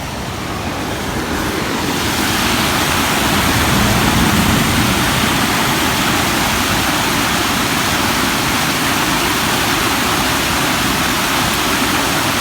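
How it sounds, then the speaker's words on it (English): A creek waterfall flows after a storm, giving a loud, continuous broadband rush of falling water that swells in over the first couple of seconds and then holds steady with no voices. "That means we've got a waterfall again."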